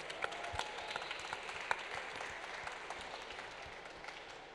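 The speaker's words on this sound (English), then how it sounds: "Give them a round of applause." Audience applause at a business school startup demo day as a pitching team takes the stage, steady scattered clapping from a seated crowd, fairly quiet and continuous with a few sharper claps standing out.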